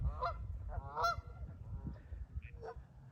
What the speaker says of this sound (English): I don't know how many geese there's. Listen to them.